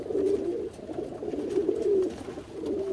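Long-distance racing pigeons cooing inside a loft, several soft overlapping coos forming a continuous low murmur close by.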